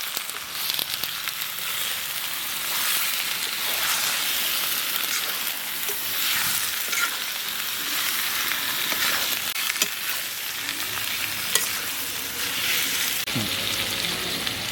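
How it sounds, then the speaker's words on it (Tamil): Chicken pieces stirred and fried in hot oil in a pan while making hariyali chicken, a steady loud sizzle and crackle with scraping stir sounds throughout, close up and with no voices. "அப்படியே எண்ணெயில் நல்லா கலந்து விட்டுக்கலாம்."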